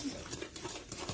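Spoon stirring brownie batter in a bowl, soft, faint, rhythmic scraping and sloshing strokes over about a second, close by.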